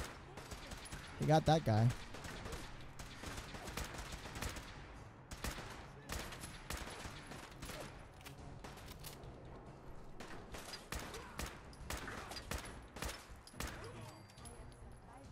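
A Fallout 4 companion fires a gun during the storming of the Institute stronghold: rapid, close bursts of gunfire keep going in choppy volleys, with a louder cluster early on and someone talking over the shooting.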